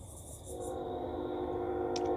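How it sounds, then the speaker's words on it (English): A train passing nearby with a steady low rumble and a held horn tone, and a brief higher horn blast near the end, with no speech over it. "Y'all had to excuse the train."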